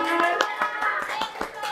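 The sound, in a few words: audience clapping hands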